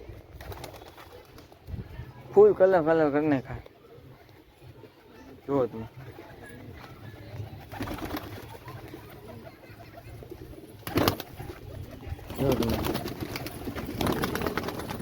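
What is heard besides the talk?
pigeons cooing on a rooftop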